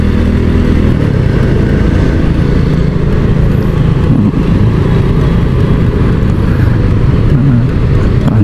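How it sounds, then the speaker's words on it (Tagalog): Heavy road traffic on a congested street, a dense, loud, continuous rumble of car and motorcycle engines passing close by, with a steady churning drone and no talk. "Ang daming sasakyan ngayon."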